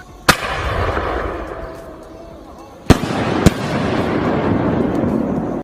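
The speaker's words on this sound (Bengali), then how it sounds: "এবং সারারাত ব্যাপী রয়েছে আতশবাজি প্রদর্শন।" Sharp firework bangs burst out three times, one early and two close together later, over a steady background of crowd noise and murmuring voices.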